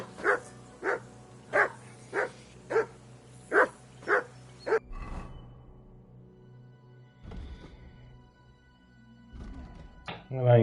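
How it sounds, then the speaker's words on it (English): A dog barks in Kingdom Come: Deliverance II, eight sharp, evenly spaced barks close by over a low steady hum, then quieter thuds and game ambience. "Call off that mutt of yours!"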